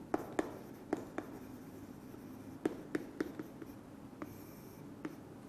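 Chalk or marker scratching across a classroom board for a cell-division biology lecture, a run of short taps and strokes spread irregularly over several seconds, close and fairly quiet with no voices.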